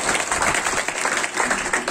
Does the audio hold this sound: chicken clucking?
no